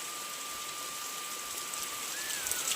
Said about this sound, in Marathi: धो धो पाऊस पडतोय